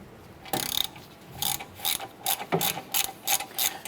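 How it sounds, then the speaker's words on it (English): Ratchet loosening 10mm bolts at the wheel hub of a 2008-2012 Honda Accord, heard as close, rapid bursts of pawl clicks repeating in a steady back-and-forth rhythm, with no talk. "We're going to remove these two 10mm bolts"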